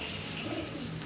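A pigeon cooing close by, a brief soft throaty coo in a quiet indoor setting.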